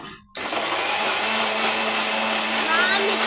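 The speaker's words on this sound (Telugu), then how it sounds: "మిక్సీ క్యాప్ పెట్టుకొని స్విచ్ ఆన్ చేసి" A kitchen mixer grinder switches on with a sudden start and runs steadily with a loud, high whirring hum, while someone talks over it.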